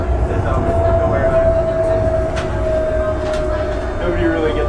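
A Calgary Transit light rail train rumbles steadily while riding onboard, a constant loud low drone with a faint whine and occasional clunks throughout.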